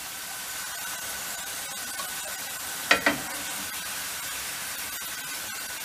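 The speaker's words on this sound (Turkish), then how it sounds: "İkinci posta patateslerimizi nar gibi kızarttı." Potatoes fry in hot oil with a steady soft sizzle and crackle, fairly quiet, interrupted briefly by two sharp clacks partway through.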